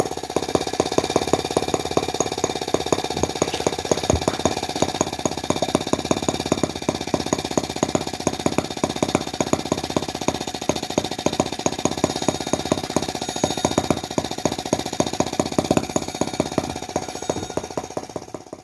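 Microcosm T26 gasoline model tractor with a 1.9cc engine running steadily, a rapid, sharp, buzzing putter of tiny firing pulses that holds a fast, even rhythm close up and loud throughout.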